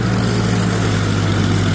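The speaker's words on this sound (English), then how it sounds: "Old 48 Cub Woods belly mower" A 1948 Cub tractor with a Woods belly mower runs at a steady, loud drone with a strong low hum, continuous and unchanging throughout.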